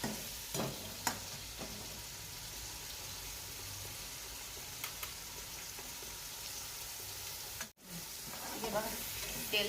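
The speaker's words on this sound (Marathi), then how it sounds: "याला चांगलं दोन पाच मिनटं तेल सुटेपर्यंत तळून घ्यायचं ग्रेव्हीला" Paneer curry gravy fries in oil in a pan with a steady close sizzle and crackle that lasts throughout, with a brief dropout near the end.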